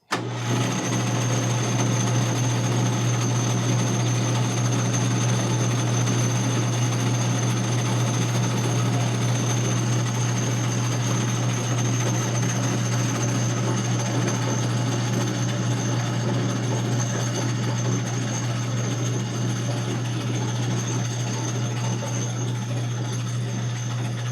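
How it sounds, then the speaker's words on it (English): A lathe spins a leather strap edge for burnishing, made for vintage BMW motorcycle panniers: a loud, steady whirring drone with a strong low hum that runs unbroken and close for the whole stretch, no voices. "he's got the lathe here. We're just going to put it in here and burnish this edge."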